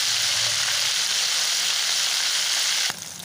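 Prawn pieces deep frying in hot oil at home give a steady, dense sizzle that carries loud and unbroken, then drops off sharply near the end with a brief clink.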